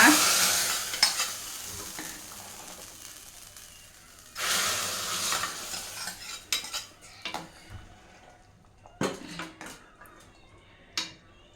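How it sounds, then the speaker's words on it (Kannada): Tempering sizzles in hot oil for drumstick sambar, loud bursts of frying hiss alternating with metal spoon scrapes and clinks against the pan, fading into quieter crackles and occasional clatter. "ಇದಕ್ಕೊಂದು ಚಂದ ಮಾಡಿ ಒಗ್ಗರಣೆ ಹಾಕ್ಬಿಡೋಣ"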